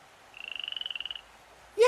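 A frog's croak as a sound effect in a children's read-aloud story: a quick, rattling, evenly pulsed trill of about a second, clear and fairly close, with no talk over it and a brief loud bump right at the end.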